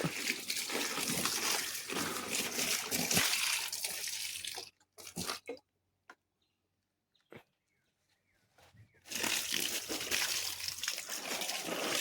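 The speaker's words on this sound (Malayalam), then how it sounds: "അപ്പം ഇവിടെ കൊണ്ട് നമ്മുടെ ചെടിയിൽ വെള്ളം ഒഴിക്കുന്ന ചെയ്യുന്നു." Water splashes and trickles onto plants, cutting off into near silence with a few faint drips before the pouring resumes.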